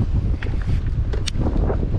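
Strong, gusty wind of around 35 mph buffets an open-air fishing spot, a steady low rumble of rushing air across the whole stretch with a few brief higher swishes.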